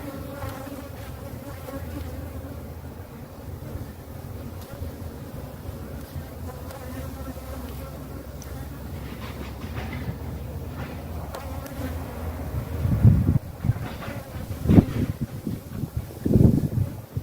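Bees buzz steadily around a hive frame that a beekeeper is handling during a honey pull from a defensive hive, a continuous close drone with a few louder handling knocks near the end.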